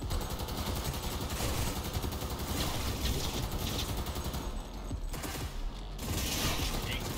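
Shotgun gunfire in the video game Cyberpunk 2077, a dense and continuous barrage of blasts mixed with mechanical clatter, loud throughout apart from a short dip near the end.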